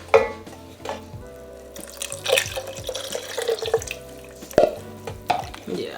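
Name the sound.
pouring chicken broth into pasta pan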